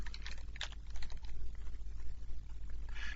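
A number is typed on a computer keyboard as a few quick, close key clicks against a low background hum.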